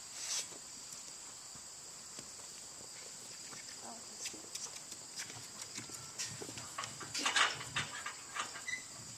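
Horses moving about on a quiet farm, with soft hoof clops and scattered thuds building up over several seconds, faint and a little distant, while crickets and other insects chirp steadily underneath.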